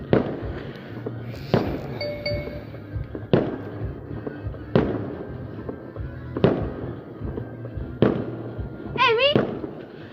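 New Year's fireworks explode at a distance in sharp booms every second or two, with a whistling rocket near the end and faint voices in the background.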